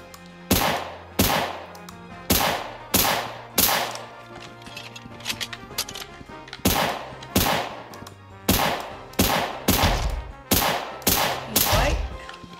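Pistol shots in a Roblox Fortnite-style video game ring out in rapid bursts of loud, sharp cracks, volleys of several shots each separated by short pauses, alone without talk.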